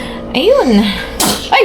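A sudden, loud sneeze comes from close by, with a short burst of a second sneeze just after. Brief speech comes before and around them.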